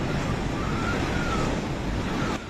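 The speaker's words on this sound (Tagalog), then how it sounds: "Sumisipol ang napakalakas na hangin sa Gonzaga" Strong typhoon wind roars steadily in Gonzaga, Cagayan during Typhoon Marce, a broad continuous rush with a faint whistling tone running through it, loud and close to the microphone with no voices.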